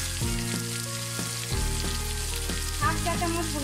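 Garlic paste sizzling in hot oil in a pan for a catfish and potato curry, a steady close crackle with a few soft thuds of stirring.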